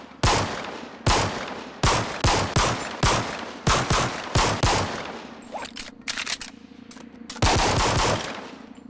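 Rapid gunfire from a default suppressed pistol in a video game, a string of sharp, evenly spaced shots about once a second followed by a quicker scattered burst and a final louder shot, with no talking over it.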